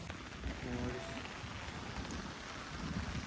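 Steady rain falls beside the Brahmaputra river, a dense continuous patter on surfaces with a faint low rumble, and a brief voice sounds early on.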